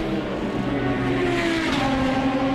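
Race cars braking and accelerating into the last chicane at Brno circuit in the Czech Republic, a loud continuous engine roar with shifting pitch as several cars pass close by, without talk.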